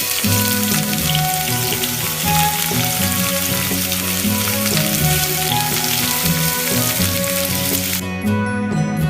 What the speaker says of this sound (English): Add fish and frying it.